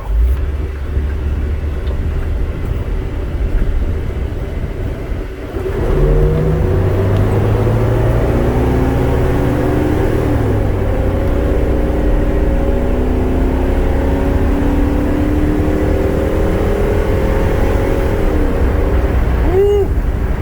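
Chevy W3500 flatbed work truck with a 6.0 Vortec engine accelerating from a stop, heard from inside the cab: a loud, steady engine drone that jumps in strength and climbs in pitch through the run, with rumbling road noise underneath.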